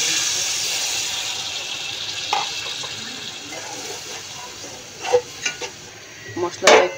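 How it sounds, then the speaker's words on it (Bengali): Masala frying in a pan after a splash of water, a steady sizzling hiss with a few louder bursts of crackle and spatter toward the end. "আমি মশলাটা কষানোর জন্য হালকা একটু পানি দিয়ে নিচ্ছি"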